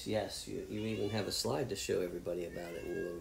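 A pet cat meows repeatedly indoors, its calls blending with a woman's and a man's conversation that runs over nearly the whole stretch.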